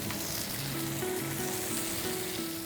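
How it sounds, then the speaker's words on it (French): Squid body and tentacles pan-frying for a Mediterranean encornet dish, giving a steady, close, dense sizzle that holds throughout, with a faint tonal hum running underneath. "on va venir poêler la tentacule et l'encornet"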